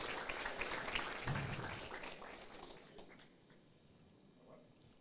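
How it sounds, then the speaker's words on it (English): Audience applause at a Duke of Edinburgh Award ceremony in Fiji, a fairly distant wash of clapping that starts full and gradually fades away, with no talk over it. "A big round of applause, ladies and gentlemen."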